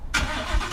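A 2016 Ford F150 SuperCrew 4x4 V8 fires up by remote start, giving a quick crank followed by an abrupt, loud catch into a throaty idle, heard close and alone.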